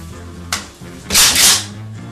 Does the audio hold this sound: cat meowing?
no